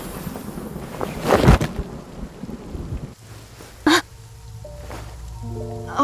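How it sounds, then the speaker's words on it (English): A thunderstorm with a heavy rain downpour in a video game brings a steady wash of rain, with a couple of sharp thunder cracks and rumbles, then a soft rising musical tone near the end. "Here comes the downpour."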